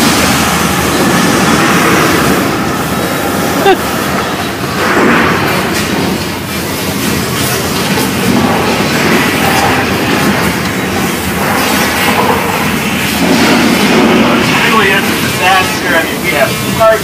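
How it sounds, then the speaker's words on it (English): A subway train rumbles and clatters close by on a Universal Studios Hollywood ride, a loud continuous roar with metallic rattling and hissing, with a few shouting voices mixed in. "Alright, there's the subway train."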